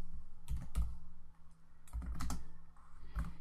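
Typing on a computer keyboard while adding text to a legend view in Revit Architecture comes in two close clusters of quick key clicks with a short pause between, then a final isolated tap, over a faint steady hum.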